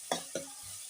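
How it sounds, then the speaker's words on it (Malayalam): Garlic and curry leaves sizzle in hot oil for a prawn curry, with two quick scrapes of a spoon stirring the pan over a steady frying hiss, close and soft. "വെളുത്തുള്ളി ഇതെല്ലാം കൂടി ഒരുമിച്ചിട്ട് നന്നായിട്ടൊന്ന് വഴറ്റിയെടുക്കുക"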